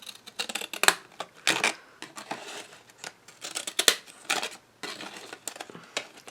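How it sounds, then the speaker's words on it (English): Decal edge scissors cut through card stock in a crafting session, a close run of crisp snipping strokes in uneven rhythm with brief pauses between bursts. "I'm going to use the decal edge scissor and cut"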